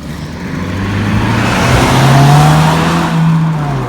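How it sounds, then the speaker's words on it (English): A car revs its engine hard while driving past a park, the loud rising engine tone swelling close by and then easing as it moves away. "You see that car showing off and revving their engine up?"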